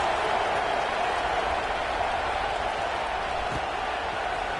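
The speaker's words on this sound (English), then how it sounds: "that last score took a little oomph out of this crowd" In a college football video game, a stadium crowd gives off a steady, dense roar and murmur. It stays constant and fairly loud for the whole stretch, with no clear peaks.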